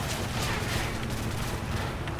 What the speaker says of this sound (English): Man, that guy is shooting shit up.